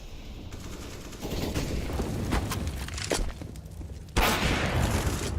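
Gunfire in a Counter-Strike match on the Inferno map: bursts of rapid shots crackle over a dense background of game noise, with a louder burst near the end.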